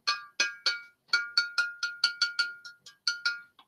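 A large 1.75-liter glass liquor bottle with a handle clinks and rings in a fast series of bright, close taps, each leaving a short resonant glassy tone.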